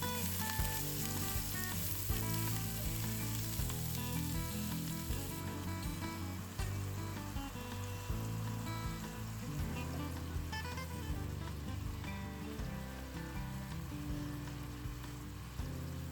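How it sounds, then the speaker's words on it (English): Mushrooms frying in a pan, browning and releasing moisture, with a dense, steady crackling sizzle throughout, close and even in loudness, with no talking. "Let the mushrooms cook down and get nice and brown."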